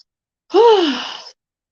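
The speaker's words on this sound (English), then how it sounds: "See the way I'm just panting for breath." A single heavy, drawn-out breath from a person out of breath after climbing stairs, a close voiced exhale lasting under a second and ending in silence.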